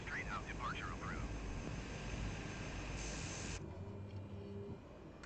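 A Cessna engine drones steadily during takeoff in Microsoft Flight Simulator 2020, a constant loud hum whose tone shifts partway through, with radio-style voice chatter mixed in at the start.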